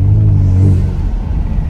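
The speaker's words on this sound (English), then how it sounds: "the turbo sound never gets old in this car" A turbocharged Kia Stinger engine revs with a deep, steady rumble, swelling briefly before settling into a continuous low drone, close and loud.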